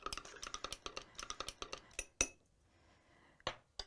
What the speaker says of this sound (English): Then we add a quarter of a glass of water, and then we stir it